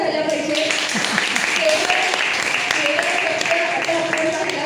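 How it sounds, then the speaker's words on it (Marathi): An audience at a Prakrit language camp at the Bhagwan Mahavir temple in Dombivli East claps loudly and steadily throughout, with a voice carrying over the applause. "तिसाठी जोरात टाळ्या झाल्या पाहिजे"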